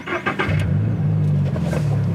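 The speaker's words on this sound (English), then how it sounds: "Start the car." A Subaru car's engine cranks and starts, a brief whir settling into a steady low idle close by.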